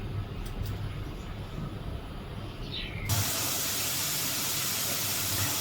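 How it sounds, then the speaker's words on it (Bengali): Onion sizzles as it fries in hot oil for a home-cooked prawn and pumpkin dish; a soft hiss suddenly swells into a loud, steady crackling sizzle partway through, with no talking. "এখানে একটু তেল আর পেঁয়াজ ভেজে নিচ্ছি"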